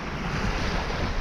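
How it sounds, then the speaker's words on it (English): Steady broadband rush of wind and surf, loud and continuous throughout with no voices, like standing exposed on a breezy shore. "like this would be a great wind for a dinghy sailing day"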